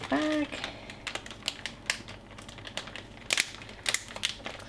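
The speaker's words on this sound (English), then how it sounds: "Empty as much air as I can out of this bag." A zip-top freezer bag of sweetcorn kernels is pressed flat to force the air out, giving close, scattered plastic crinkles and soft rustles; a brief voiced sound opens it.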